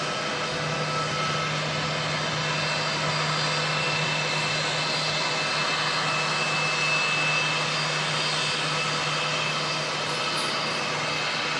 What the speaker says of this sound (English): Star Alliance aircraft will be heading off down to Queenstown.